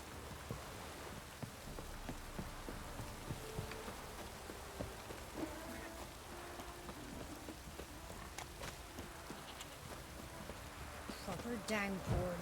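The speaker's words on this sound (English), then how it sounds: "Proper downpour this is." Heavy rain falls during a downpour in the video game Witcher 3, a continuous soft hiss with scattered drop patter at a low level, and a louder clatter near the end.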